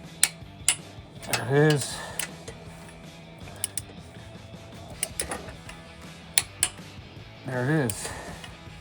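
A torque wrench clicks several times as it tightens bolts on a Jeep Wrangler JK steering brace, with mechanical ratcheting and creaks close by and someone talking briefly in between.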